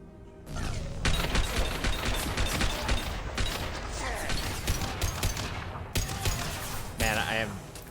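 Gunfire in the video game Mass Effect: rapid, dense bursts of shots rattle continuously for several seconds, loud and close, with game effects layered underneath and brief pauses between volleys.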